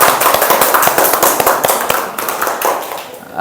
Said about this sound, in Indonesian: kita beri aplaus dulu untuk kelompok 1 yang telah tampil